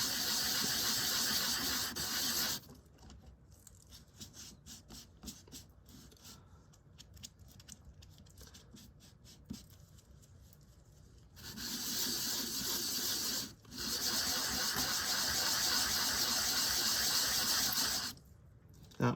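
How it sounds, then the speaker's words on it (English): Wet sanding in a water-filled sanding tub gives a steady, close, broadband wet rasping in two long stretches, separated by a quieter pause with scattered light scrapes and a brief break near the end; no talking. "it really does make short work when you wet sand"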